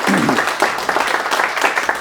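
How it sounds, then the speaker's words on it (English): An audience at an affordable housing presentation gives applause as the speaker takes the stage, a brisk, full round of many hands clapping with a voice briefly heard at the start. "Don't clap until after"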